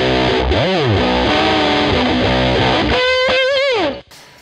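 A heavily distorted electric guitar plays a solo alone, with bending, sliding notes and a gritty, fuzzy tone before stopping abruptly.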